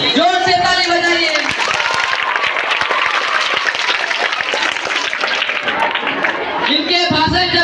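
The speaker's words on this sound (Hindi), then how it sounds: "ताली की आवाज थोड़ी कम थी, जोर से ताली बजाइए।" Loud, sustained applause from a large audience at a school drama performance, dense clapping filling the whole stretch with some cheers and shouts, and voices briefly at the start and end.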